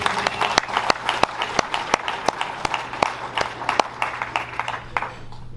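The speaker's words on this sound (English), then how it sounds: "Let's give everybody a big round of applause for these first awards." Audience at a tractor pulling association awards banquet claps, a loose smattering of distinct, sharp hand claps from a modest crowd with steady room hum underneath.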